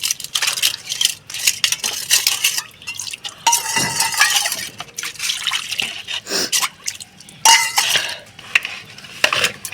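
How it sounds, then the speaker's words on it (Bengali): A bowl is rinsed with water, giving close, loud splashes and trickles mixed with hollow knocks and scrapes of the vessel in irregular bursts. "ওই যে বাটি ধোয়া হয়ে গেছে"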